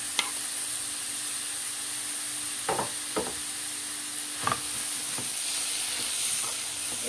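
Meat searing in a hot pan while being stirred, a steady broadband sizzle broken by sharp clicks and scrapes of the utensil at irregular intervals, close and with no talking.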